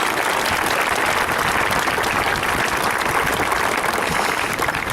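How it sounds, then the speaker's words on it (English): Sustained applause from an audience at a 2015 high school graduation ceremony, a dense, even clapping that holds steady at moderate volume for the full stretch with no voices over it. "Let's give him one more big round of applause."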